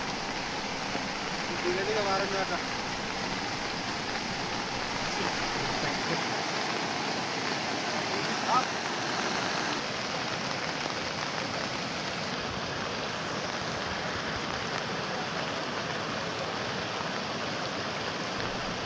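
A steady, dense rush of heavy monsoon rain and floodwater in Medak district continues without a break, loud and enveloping, with a faint voice now and then.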